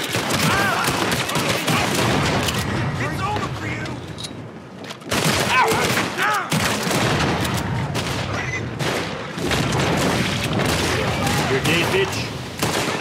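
Gunfire in the Western shooter game Red Dead Redemption 2 comes as a dense, loud fusillade of overlapping shots close up, with only a short lull partway through, and excited voices shouting over the action.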